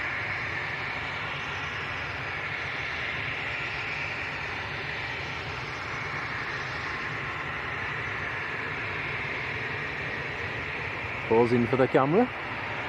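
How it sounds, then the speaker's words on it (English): An Aer Lingus ATR turboprop crosses at Manchester Airport, a steady, fairly faint airliner drone running through the whole stretch, with a brief voice near the end. "Aer Lingus ATR coming across in the background as well"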